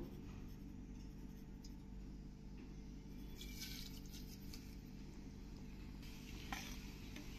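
Cumin seeds sizzle in hot ghee with a faint, steady crackling hiss, broken by a few soft stirring clinks.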